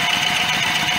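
A Firman generator engine runs at a steady, close, loud idle with a constant mechanical drone for about a second; no cranking is evident.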